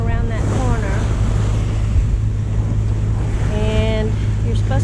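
Wind and waves roll steadily off the south coast of Puerto Rico, a constant loud rush with buffeting gusts on the microphone and a passing high whine, no speech over it.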